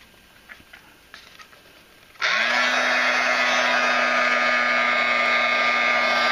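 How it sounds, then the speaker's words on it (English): A heat tool switches on abruptly and blows a loud, steady whirring roar with a constant hum, heat-setting Tattered Angels crackle paint on a naturally aged red brick architecture piece; quiet handling taps come before it. "And now I'm going to heat set it."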